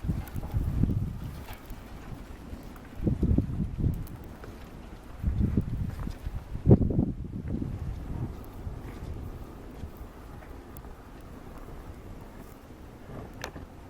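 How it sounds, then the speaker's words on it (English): Gusty wind buffets an outdoor microphone in low rumbling bursts, rising and falling several times over a quiet background, with no voices. "Wind's blowing our flame around."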